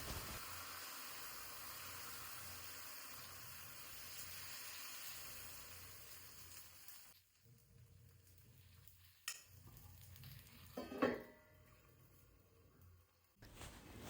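Moringa leaf dosa with onion sizzling on a hot pan, a steady broad hiss for about seven seconds that drops away, then quieter frying with a few soft scrapes and clicks.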